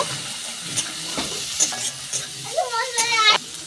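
Spices sautéed with Kashmiri red chili powder in a pan for a tilapia curry: a steady sizzle of hot oil with a spatula scraping and stirring, close and fairly loud.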